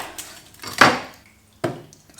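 A kitchen knife chops the ends off an onion on a board, three sharp, close knocks of the blade hitting wood with pauses between, heard alone.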